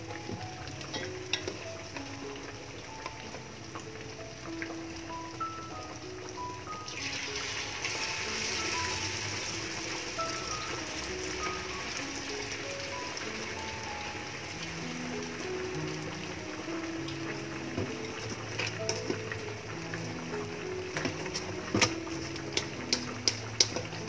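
Malaysian-style banana fritters crackle and sizzle steadily in hot oil, a dense, continuous frying hiss with occasional sharper pops, heard close up with music playing faintly underneath.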